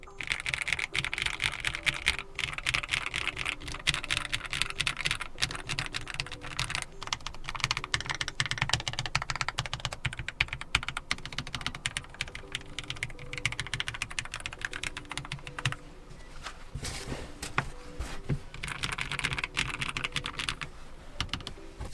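Steady low-profile mechanical keyboard typing on a LOFREE Flow Lite, set on a small filter pad standing in for a desk mat, giving a continuous run of muted, close keystroke clicks with no talking.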